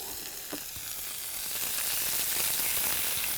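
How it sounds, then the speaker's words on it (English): Rabbit pieces sizzling and frying steadily in a cast iron pan at a camp cook, a continuous close hiss that grows slightly louder, with a few faint clinks early on. "we just want this rabbit to brown off in here"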